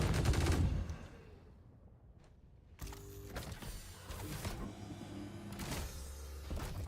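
Ship weapons firing in the space game Star Citizen, a burst of rapid shots near the start, then a second stretch of repeated blasts and mechanical clatter over a steady low hum.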